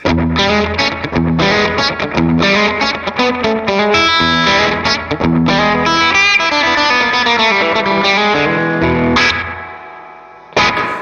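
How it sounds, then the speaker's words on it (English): Electric guitar riffing through a delay pedal set for slapback, a short echo doubling each note, driven and busy, then a held chord fades out before a final brief hit. "Really cool pedal. I use this for slapback"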